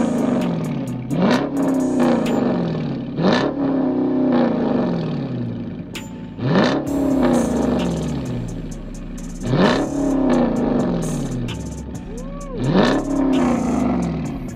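A Dodge Charger R/T's 5.7 Hemi V8 revs hard again and again, each burst climbing and dropping back to a rumbling idle, close and loud.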